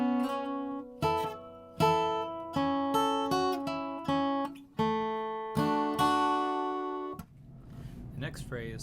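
A guitar slowly plays the first phrase of a song as single plucked notes and small chord stabs that ring close and clear. Brief talking follows at the end.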